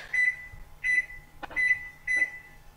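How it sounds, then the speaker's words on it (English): A microwave oven hums steadily while several short electronic beeps repeat at an even pace, close by and moderately loud. "I'm just going to throw that into the microwave for a little bit"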